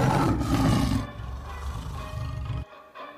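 A deep, loud growling roar fills the first second, then tapers into a lower rumbling snarl that stops abruptly near the end, used as a werewolf's growl from the street outside a house in Campina Grande, Paraíba.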